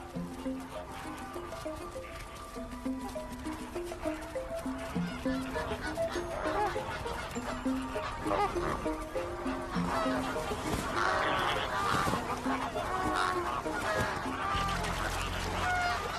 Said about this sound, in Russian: берег водоема превращается в красочное шествие сотен птиц, собравшихся пообедать